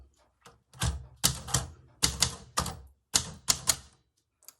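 Typewriter keys struck in quick clustered bursts with short pauses between, each strike crisp and close, the carriage clacking along as a line of words is typed for an embroidered story-box project; no talking.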